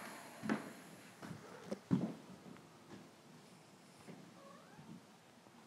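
A kitten meows faintly in a few soft, scattered calls in a quiet indoor room with light background noise.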